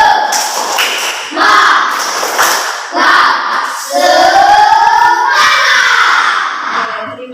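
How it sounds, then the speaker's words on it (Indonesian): Classroom rhythmic motivational clapping, tepuk semangat, led by a teacher: loud, close patterned claps in bursts, mixed with students' voices chanting along. "Tepuk semangat."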